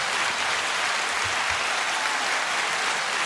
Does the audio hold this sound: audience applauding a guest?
yes